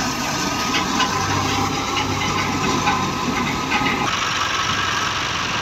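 A Fiat 640 tractor drives a wheat thresher working damp grain in a Punjab field, a steady rumbling diesel drone mixed with the thresher's continuous hissing, rattling whir, loud and close without pause.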